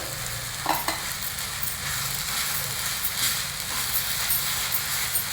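Amla paste and jaggery powder in ghee, stirred steadily in a pan with a soft, continuous sizzle and occasional scraping clicks of the spoon.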